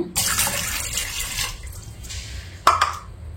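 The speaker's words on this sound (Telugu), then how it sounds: "నేను ఇక్కడ 2 కప్స్ ఆఫ్ వాటర్ అయితే వేసుకుంటున్నాను" Two cups of water pour into a 5-litre electric steamer, a rushing splash for about a second and a half, quieter after, then a brief sharp splash near the end.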